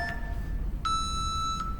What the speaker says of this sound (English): there's our timer clock's ticking